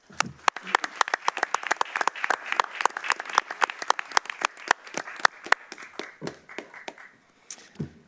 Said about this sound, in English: We want to salute you and give you an applause and appreciation